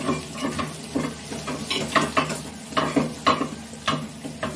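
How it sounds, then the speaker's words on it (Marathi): Asafoetida dropped into hot oil in a pan with chillies and other roasting ingredients, giving a close sizzle broken by repeated scraping and clinking stir strokes at an irregular pace, with no talking. "हे 1 चमचा हिंग टाकले"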